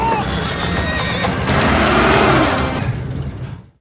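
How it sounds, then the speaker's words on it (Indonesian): Two horses pulling a bus that is stuck in mud: a loud, close whinny and snorting rise over clip-clopping hooves and mechanical creaks, then fade out near the end. "Andreas datang dengan membawa 2 kuda milik warga sipil untuk menarik bus yang terjebak."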